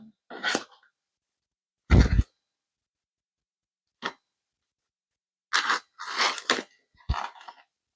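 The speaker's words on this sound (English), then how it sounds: "The crust has a nice crunch." Someone bites into a crunchy sourdough bread crust and chews, producing sharp, close crunches in separate bursts with quiet gaps between them, one bite louder than the rest and a cluster of crunches near the end.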